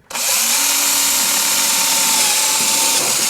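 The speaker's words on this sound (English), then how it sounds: "drill myself a little bit of a pilot hole here." A power drill starts abruptly and whines steadily at high speed while drilling a pilot hole during a rear suspension install on a 700 Ski-Doo mod sled, loud and close, with no talking.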